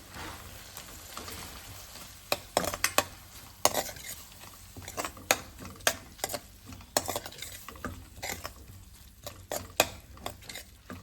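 A spoon scrapes and stirs through a thick moong dal curry in a pan, with repeated sharp clinks against the metal over a steady low sizzle.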